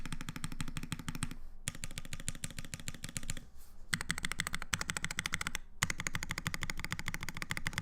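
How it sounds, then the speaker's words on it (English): Fast, continuous typing on a newly built mechanical keyboard, crisp close clacks in dense bursts with a few short pauses, played alone without speech. "I love the sound of this keyboard."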